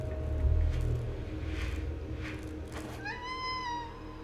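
Cat meowing in the video game Stray, a distinct rising meow near the end over a low rumbling game ambience, close and clear.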